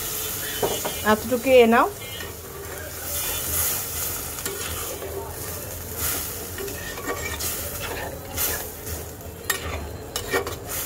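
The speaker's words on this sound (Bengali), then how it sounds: "এখন এর মধ্যে দিয়ে দেব ঝোলের জল।" Curry water poured into a hot pan of frying bele fish, giving a steady sizzle and bubbling that runs throughout, with a brief splashy pour near the start and someone speaking briefly over it.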